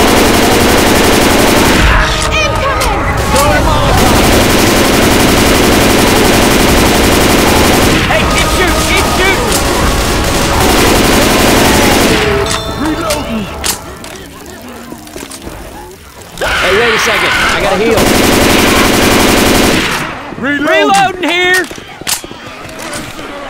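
Rapid automatic gunfire and shotgun blasts from Left 4 Dead 2 on the Dead Centre campaign, loud and continuous, with bursts that stop briefly and then resume, while players talk over the shooting.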